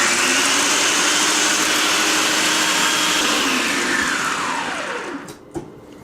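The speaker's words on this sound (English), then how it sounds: "just dump it into my blender" A kitchen blender whirs loudly, grinding a dog treat mixture in one continuous high motor drone that winds down near the end, followed by a couple of faint clicks, with no talk.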